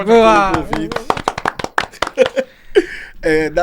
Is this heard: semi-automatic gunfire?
no